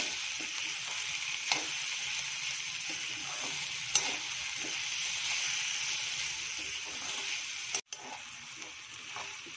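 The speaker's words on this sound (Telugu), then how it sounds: "ఈ ఆయిల్లో బాగా ఫ్రై అయితేనే టేస్ట్గా ఉంటుంది" Chopped ingredients for batani chaat frying in oil, a continuous bright sizzle with a few spoon clicks and stirs scattered through, close and steady.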